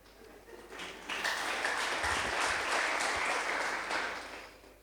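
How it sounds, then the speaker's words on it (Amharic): A church congregation bursts into applause during a pastor's sermon, a dense wave of clapping that swells quickly, holds steady for several seconds and then tapers off. "ስላሳሳትኳችሁ እስቲ አጨብጭቡልኝ።"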